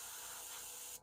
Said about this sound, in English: I usually run some thinner through here to make sure it's spraying good